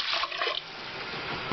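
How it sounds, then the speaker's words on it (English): Water pours into a pressure cooker in a kitchen, a steady close hiss-like stream with no talking. "I want to put a little more water in."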